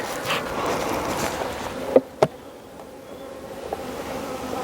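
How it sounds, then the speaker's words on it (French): Young honeybees in a hive make a soft, steady hum, with a couple of sharp clicks partway through and the buzzing fading a little afterward. "Donc là, c'est blindé. Hein. De jeunes abeilles."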